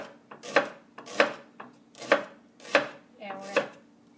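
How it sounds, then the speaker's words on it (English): A knife cuts a shallot into thin slices on a board, six crisp chops landing at an even, unhurried pace, close and clear. "We're going to do thin slices."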